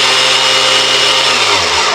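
A Greenworks TB201H 82V cordless string trimmer runs unloaded at its third speed setting, giving a loud, steady high-pitched whine throughout with a low tone that drops near the end.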